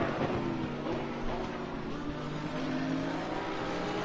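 Race car engines in the Assetto Corsa Competizione video game, including a Mercedes running nose to tail with another car at Laguna Seca, give a steady, droning hum with slowly shifting pitch and no clear single pass.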